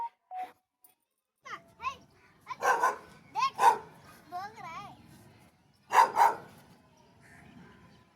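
A dog barks a few times in short bursts, mixed with people talking nearby.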